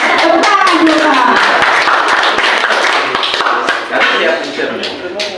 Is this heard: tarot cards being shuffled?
no